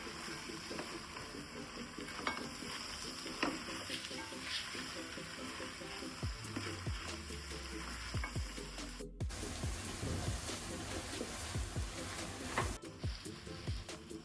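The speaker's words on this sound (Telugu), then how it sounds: "కారం, ధనియాల పొడి, బిర్యానీ మసాలా వేసి బాగా కలపాలి." Chili powder, coriander powder and biryani masala being stirred into a pot for veg dum biryani: a soft, steady sizzle with repeated scraping strokes of the spoon against the pot, heard up close and fairly quiet.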